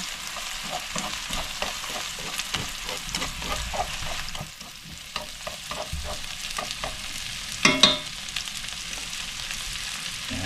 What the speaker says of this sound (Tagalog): Brown lang natin ng kaunti yung ating bawang